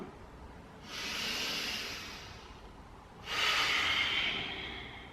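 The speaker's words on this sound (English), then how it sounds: "Move with your breath. Inhaling up, exhaling to roll down." Two long, breathy exhalations during a yoga movement, close and soft with a hissing quality, each lasting a couple of seconds over quiet room tone.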